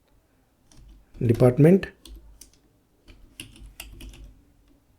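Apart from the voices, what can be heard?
typing a SQL statement on a computer keyboard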